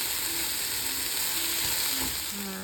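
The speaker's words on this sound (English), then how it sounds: "I'm just mixing it all together in the frying pan." Food sizzles and crackles steadily in a frying pan, a soft continuous hiss with faint stirring sounds, no voices.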